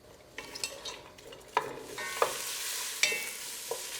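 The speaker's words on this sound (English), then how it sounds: "And we're gonna saute the onion." Quiet sizzling of onion sauteing in butter in a pot, with scattered clicks and scraping as a utensil stirs, a few sharper knocks standing out against the soft frying hiss.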